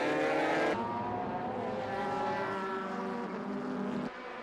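Honda NSX GT cars in a JGTC race start roar past at full throttle, a loud, strained engine howl that drops away after a sharp cut, then a steadier distant drone of several cars into the first corner.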